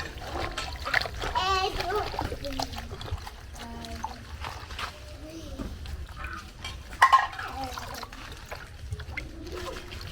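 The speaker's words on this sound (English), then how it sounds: "I want to rinse the sesame leaf" Sesame leaves get rinsed under running water in a kitchen, with splashes and light clinks of dishes, and a child and an adult talk over it throughout.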